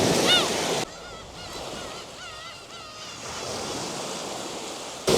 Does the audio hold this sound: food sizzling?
no